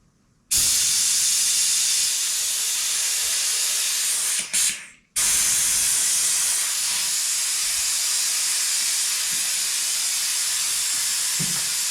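A brake bleeder valve on a KTM 350SX-F motocross bike is opened, releasing a loud, steady hiss that starts abruptly, breaks off briefly midway, then resumes and continues evenly to the end.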